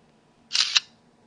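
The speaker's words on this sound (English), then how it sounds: "Use the camera shutter button." A Samsung T919 Behold phone gives a brief simulated camera shutter sound, a quick two-part electronic click about a quarter second long, close and clear against a quiet background.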